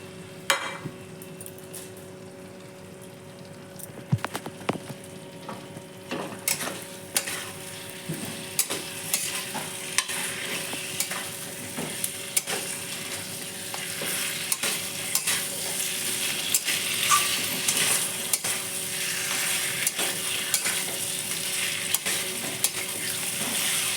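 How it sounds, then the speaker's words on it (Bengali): Washed mutton hits hot spiced oil for a Bihari-style mutton curry, giving a steady, close sizzle with repeated stirring scrapes and clinks that grow louder and denser as it cooks. "দেখুন মশলা থেকে তেল ছেড়ে দিয়েছে এখন এই সময় ধুয়ে রাখা মশলাটা এই মাংসটা দিয়ে দিলাম"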